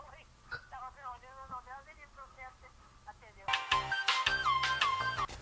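A phone in the video game Heavy Rain rings out in bright, repeating electronic tones near the end, loud and close, following a stretch of quieter talk over a low background hum.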